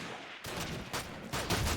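Gunfire in a competitive video game match, three or four sharp shots or short bursts spaced out over under two seconds, moderately loud and close with no talk.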